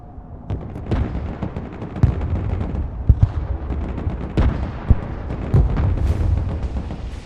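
Heavy naval gunfire from a destroyer in the war game Broken Arrow, pounding a target position with dense repeated booming blasts and sharp cracks over a continuous rumbling battle din, loud and close.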